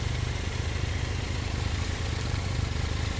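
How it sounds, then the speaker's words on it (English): A Triumph Tiger Explorer motorcycle fitted with an Arrow exhaust idles steadily close by, giving a continuous low throbbing engine note with no voices. "Triumph Tiger Explorer with an Arrow exhaust."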